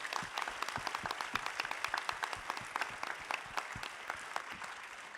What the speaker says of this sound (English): So please let's give all of our competitors one big round of applause.